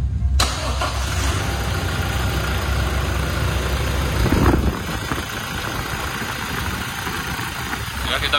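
A Toyota Fortuner 2.8 1GD-FTV diesel, 2022 Euro 4 version with no catalytic converter in the downpipe, cranks and fires abruptly, then settles into a steady, close diesel idle with a brief swell before calming.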